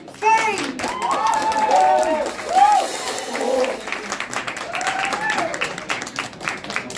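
A hard rock concert crowd at the Cultuurhuis in Almere Buiten claps and cheers as the band is welcomed on stage, with whoops and shouts over dense applause.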